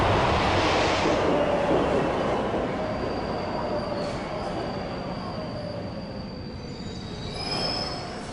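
A subway train at Fulton Street station in downtown Manhattan screeches loudly as its wheels squeal against the rails, long high whines sliding over a rumbling, rattling roar that stays close and strong throughout.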